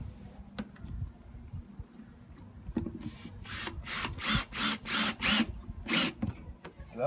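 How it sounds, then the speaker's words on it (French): Screws driven into boards on the back of a wooden cabinet, with soft handling and knocks at first, then a close run of six or seven loud, rhythmic drill bursts. "je suis en train de visser des planches derrière mon meuble"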